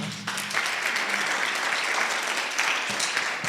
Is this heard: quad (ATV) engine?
no